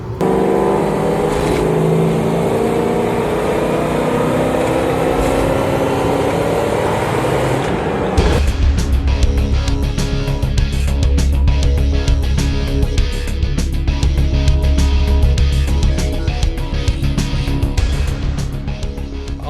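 A V8 rally-modified Land Rover Discovery drives off road, its engine roaring and surging loudly, with a sharp shift midway into harsher, rattling, bumpy running over rough ground.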